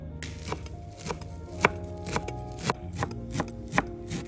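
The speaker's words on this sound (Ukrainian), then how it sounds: "Дрібненько наріжемо зелень, укропчик і петрушку." A knife finely chops dill and parsley on a wooden board in a steady run of crisp, close taps, each stroke sharp and evenly spaced.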